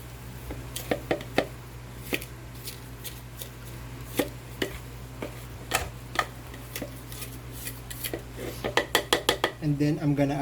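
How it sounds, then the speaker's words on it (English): A rubber scraper works around the edges of a mixing bowl, giving a run of soft, irregular taps and light scrapes that grow quicker and louder toward the end. "I'm gonna use rubber scraper to scrape the edges."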